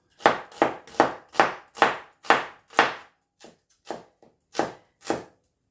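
A knife chops an onion into batons on a cutting board: about eight close, crisp thuds in steady rhythm, then a few lighter, more spaced cuts, with nothing else heard.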